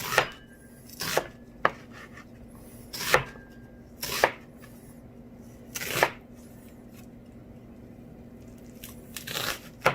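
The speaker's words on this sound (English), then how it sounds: "keep the onion together while I'm chopping" Knife chopping an onion on a cutting board for pork with tomato and green beans: a handful of crisp, irregular thuds and crunches spaced about a second apart, close and clear with no talking.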